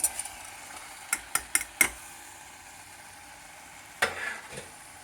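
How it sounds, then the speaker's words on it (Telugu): Vegetables for lobia kadi are tipped into fried tomato masala and stirred in a pan: a handful of sharp clinks and scrapes of the spoon up front, another bump later, over a faint steady sizzle. "ఇప్పుడు మనము ఈ సబ్జీ వేసుకుంటాం."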